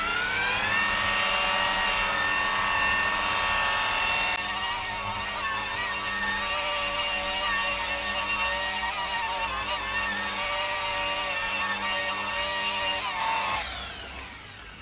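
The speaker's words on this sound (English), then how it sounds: "I'm going to come in with my polisher and I'm going to tilt a little" An electric car polisher buffs polish on a bumper panel, a steady loud high-pitched motor whine that holds constant for most of the time before winding down near the end.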